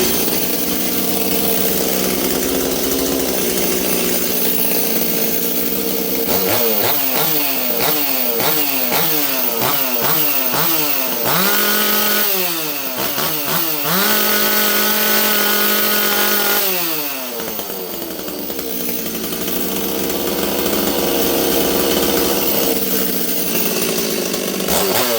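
A Stihl-style 026 chainsaw held at fast idle, a loud steady buzzing drone with a brief stretch of rising and falling revs and clattering in the middle before settling back to a constant whine.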